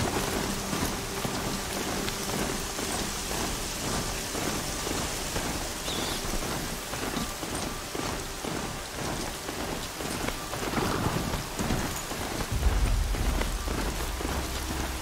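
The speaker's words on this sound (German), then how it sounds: "Ein richtiger Platzregen." Heavy downpour in the video game Horizon Zero Dawn, a loud unbroken rain roar with rumbling thunder swelling near the end, no talking.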